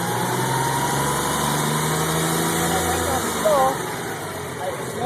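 A turbocharged car engine hums steadily near idle while it is revved slowly, with a brief lift in pitch and loudness partway through as the wastegate releases over boost, heard close.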